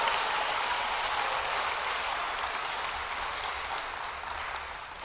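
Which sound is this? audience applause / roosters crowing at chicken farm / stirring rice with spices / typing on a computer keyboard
audience applause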